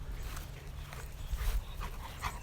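A Labrador dog pants in quick, breathy bursts close by, with a rough, uneven rhythm over low background rumble outdoors during check-cord training.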